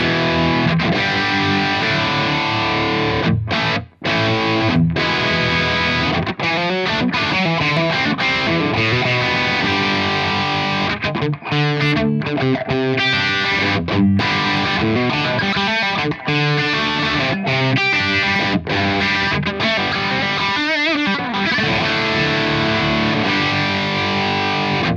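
Heavily distorted electric guitar plays through the Fractal Audio ML Legends speaker cabinet in a long, loud, dense metal riff passage with palm-muted chugs and brief gaps, and no talking.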